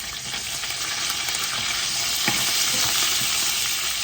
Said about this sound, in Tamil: கருவேப்பிலை போட்டால் எண்ணெய் வந்து வெடிச்சு,